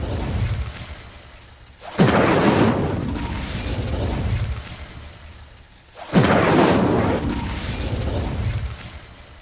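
Two Incendio fire spells go off in Hogwarts Legacy, each a loud, sudden whooshing burst of flame that roars and slowly fades, the second arriving about four seconds after the first.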